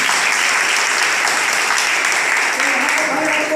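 Loud, sustained audience applause at a motivational speech event in Hardoi, a dense wash of clapping that continues steadily for several seconds with little variation.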